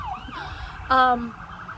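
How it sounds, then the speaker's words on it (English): An emergency vehicle siren sounds outdoors on a patio, a wailing tone rising and sweeping briefly and loudly over background noise, with a short burst of louder harmonic wail near the middle. "Sorry, there's a siren."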